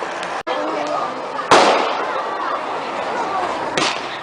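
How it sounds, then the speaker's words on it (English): Bonfire Night fireworks outdoors near a pub: a sharp crackling burst erupts mid-clip with a fainter pop near the end, over steady crowd noise and background chatter. "There's some fireworks on."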